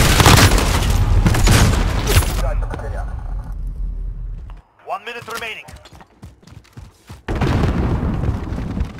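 A cruise missile strike in Call of Duty: Modern Warfare lands as heavy booming explosions, followed by a shorter blast and a rumbling aftermath, loud and close, with game voices talking in between.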